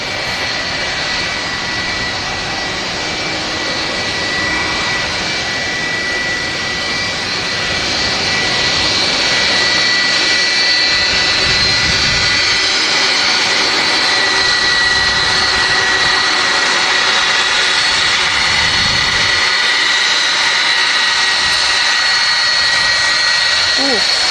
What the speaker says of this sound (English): Enjoy the sound of these Rolls-Royce engines.